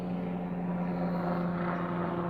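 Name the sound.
helicopter flying by overhead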